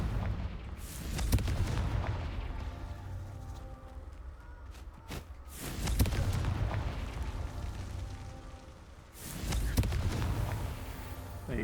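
Confringo fire spell blasts in Hogwarts Legacy burst out as three heavy, booming explosions spaced a few seconds apart, each followed by a rumbling tail over continuous game background noise.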